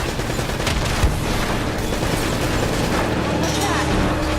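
Rocket launcher blasts and gunfire in the Uncharted video game, a dense, continuous barrage of shots and booms running throughout, with voices talking over the combat.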